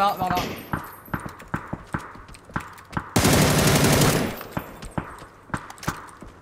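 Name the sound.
gunfire in video game PUBG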